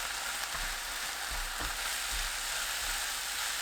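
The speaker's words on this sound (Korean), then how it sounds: "진간장 1큰술 반, 굴소스 1큰술 넣고 섞어주세요." Stir-fry in a pan with soy sauce and oyster sauce, a soft continuous sizzle with low thumps and light stirring scrapes, close but quiet and even.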